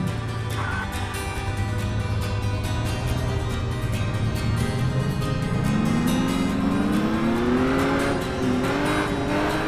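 A Bugatti Atlantic engine in a driving video game drones steadily, then revs up with rising pitch as it accelerates, loud and close throughout.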